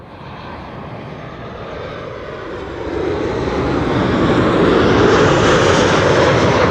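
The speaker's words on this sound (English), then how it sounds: "This is El Al flight 337 arriving from Tel Aviv, 737-900" An El Al Boeing 737-900 jet arriving at Amsterdam Schiphol, its roar building steadily from moderate to loud as it comes close, a continuous rushing engine noise with no voices.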